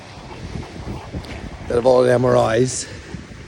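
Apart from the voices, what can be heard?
wind blowing into the microphone outdoors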